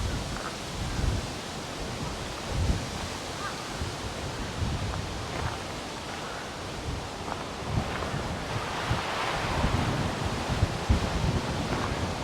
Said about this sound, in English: Getting a little bit of wind here today.